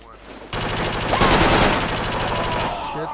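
Loud, sustained automatic gunfire in the military shooter game Project Reality on a winter map, starting abruptly and continuing in rapid overlapping bursts, with faint voices underneath.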